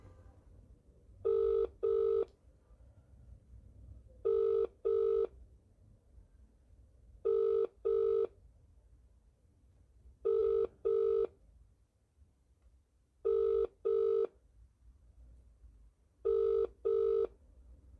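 A telephone rings in regular paired bursts, six double rings spaced evenly apart against a quiet background, with no talking.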